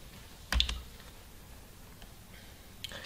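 A few faint, sparse clicks on a computer keyboard while typing code, one sharper tap near the start and lighter ticks later, quiet and close.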